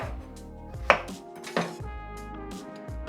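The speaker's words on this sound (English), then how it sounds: "We will just cut off the ends and cut them in a rangiri, which is a rolling cut." A knife chops eggplant into rolling-cut pieces for a Japanese mapo nasu dish, with a close, even series of thuds on a cutting board and a couple of sharper knocks.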